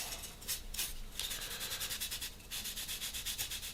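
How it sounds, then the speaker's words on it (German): Light, rhythmic back-and-forth sanding on the edges of a painted figure, a steady close rasping with quick even strokes and no talk. "dann kann ich diese Kanten so ganz leicht minimal anschleifen"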